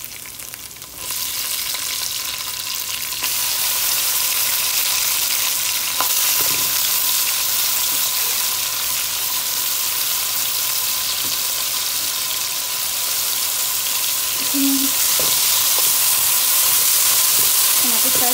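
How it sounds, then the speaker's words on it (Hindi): Tomatoes frying in a pan with garlic-ginger paste for a spicy achar chicken curry, giving a steady, loud sizzle and hiss with occasional stirring clinks throughout. "टमाटर फ्राई कर लेंगे"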